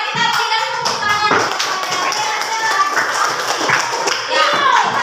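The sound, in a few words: classroom applause, clapping hands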